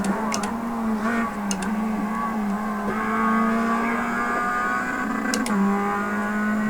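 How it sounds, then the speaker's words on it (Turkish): Mazda MX-5 Cup race cars in iRacing at Laguna Seca, a steady engine drone with a strong low hum and shifting harmonics as another car closes in and passes, with brief sharp bursts near the start and end. "Bir araç daha geçti bizi."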